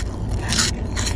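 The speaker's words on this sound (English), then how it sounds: "My daughter is trying to crunch her food." A young child crunching food, short crisp bites close up with a faint steady background hum.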